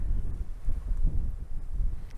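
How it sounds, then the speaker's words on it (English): Wind gusting across a rural cornfield cemetery, a steady low rumble and buffeting against the microphone that swells and eases throughout, with no talking. "Pretty windy."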